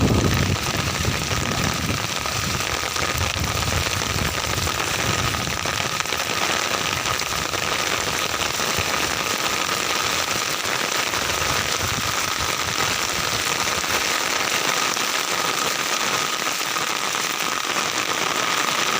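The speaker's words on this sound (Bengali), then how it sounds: "যেই পরিমাণ বৃষ্টি হচ্ছে দেখেন প্রচুর পানি হচ্ছে শুধু পানি আর পানি" Heavy rain pours down steadily during flooding in Noakhali, a dense continuous hiss of water hitting surfaces, close and loud throughout with no voices.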